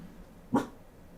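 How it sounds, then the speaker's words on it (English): A single sharp dog bark rings out close by, short and loud against a quiet indoor background. "And my dog's barking."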